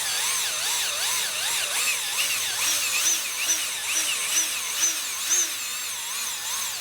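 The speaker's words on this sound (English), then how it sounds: "there's so much torque on this drill" A high-torque power drill spins on a trailer wheel lug bolt, its motor whining steadily throughout with a wavering, warbling pitch and loud, close, continuous load, no speech.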